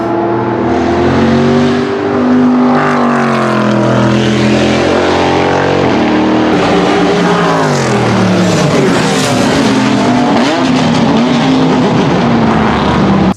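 A Corvette C6R race car engine roaring in Shift 2 Unleashed, loud and close, its pitch rising and falling through repeated gear changes and hard acceleration.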